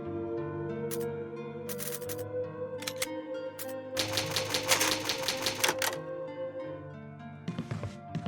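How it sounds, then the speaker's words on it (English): Old typewriter in the Resident Evil HD video game clacking through repeated bursts of rapid keystrokes as progress is saved, loud bright clatter with pauses between runs and a final carriage-return thunk, over a low ambient game music bed. "It's an old typewriter, you can save your progress."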